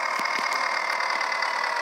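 A tractor engine idles steadily in a farming simulation game, a continuous droning hum with faint periodic knocks, close and even in level, with no voices.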